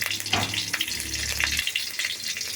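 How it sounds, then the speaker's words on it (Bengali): One dried red chili and two green chilies hit hot oil in a pan, bursting into a loud close sizzle and crackle that continues steadily without talk. "ওই তেলে আমি এখন শুকনো লঙ্কা একটা দিলাম, কাঁচা লঙ্কা দুটো দিলাম"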